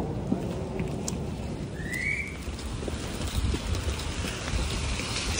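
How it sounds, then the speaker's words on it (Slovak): Heavy rain pours steadily outdoors, a dense, even hiss of drops falling on surfaces, with no voices and a faint whistle-like tone rising briefly partway through. "Kokos, ale prší!"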